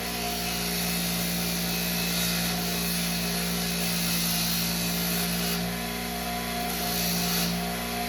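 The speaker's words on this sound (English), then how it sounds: "I just have a little wire wheel set up on my bench grinder here." A bench grinder fitted with a wire wheel cleans small metal arcade parts held in pliers, giving a loud, steady whirring hum with a harsh scratchy brushing layered on top throughout.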